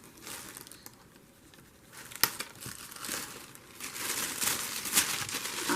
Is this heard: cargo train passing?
no